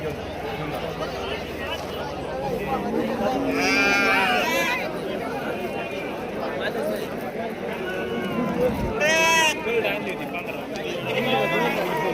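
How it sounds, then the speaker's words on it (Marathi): Sheep and other livestock at a busy sheep market in Shirur taluka, Pune district, with bleats and calls rising above a constant crowd murmur and nearby voices talking. "पहा मित्रांनो आता आपण मेंढी बाजारमध्ये चाललेलो आहे"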